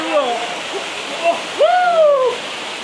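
A waterfall on the Herriot Way hike rushes as a steady broad wash of water noise while people shout and talk loudly over it, with voices rising into drawn-out exclamations.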